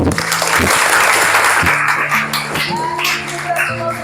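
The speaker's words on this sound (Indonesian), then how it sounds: "Tepuk tangan untuk kita" A classroom of students applauds together, a dense, loud burst of clapping that fades slightly toward the end, with voices mixed in underneath.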